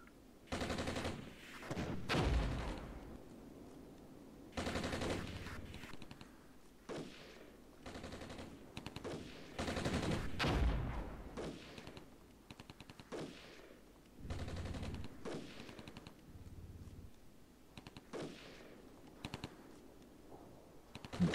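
Infantry squad gunfire in the Armored Brigade war game, with repeated bursts of automatic fire that come in clusters spread across the stretch, fairly close and sharp, and no talk over it.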